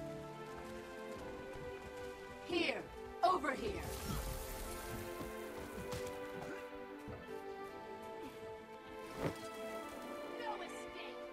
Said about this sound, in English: It's raining, but only there.